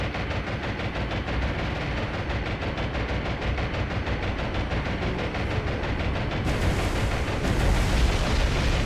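A Wildcat fighter's strafing run in the War on the Sea naval combat game, a dense, loud, unbroken roar of machine-gun fire and engine noise that swells slightly near the end.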